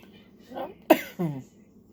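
A woman coughs close to the microphone in a quiet room, a few short, harsh bursts in quick succession with a throaty rasp.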